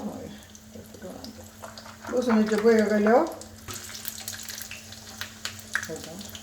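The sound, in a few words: mustard seeds, urad dal and garlic sizzling in hot oil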